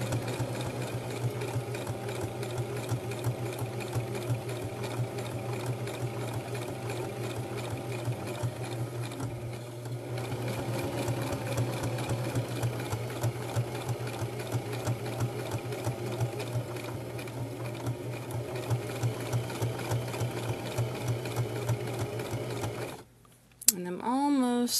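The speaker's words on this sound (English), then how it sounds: "So I'm just going to sew up to that point." A domestic sewing machine stitches fabric for a baby hat, its motor and needle running in a steady, fast mechanical rattle for almost the whole stretch before stopping near the end.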